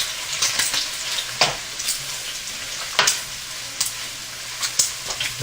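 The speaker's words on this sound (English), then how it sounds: "And so the meat is about getting nicely browned" Venison meat browns in a pan with a soft steady sizzle, punctuated every second or so by brief scraping and clinking stirs, close and fairly quiet; no talking.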